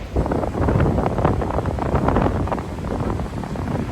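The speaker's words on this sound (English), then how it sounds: "The wind is still very, very windy" Strong wind at the beach buffets the microphone in steady, loud gusts, with a broad roar that never lets up.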